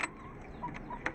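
A white hen and a brown hen, newly bought as companions for an aseel rooster, give a few soft, brief clucks close by against a low background hum.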